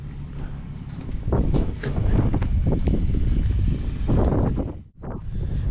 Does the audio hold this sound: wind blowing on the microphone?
yes